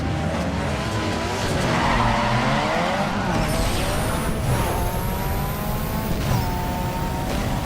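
Car tires skidding and squealing under handbrake in Need for Speed Underground 2, a loud sustained screech over engine noise, with further skid bursts and a passing whoosh later.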